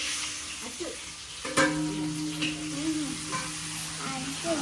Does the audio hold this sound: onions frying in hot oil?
yes